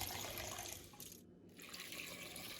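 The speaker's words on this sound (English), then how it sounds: "I'm going to add in 3/4 of a cup of water." Water pours from a measuring cup into a pan of whole cranberries, a brief close splashing stream with a momentary break in the middle.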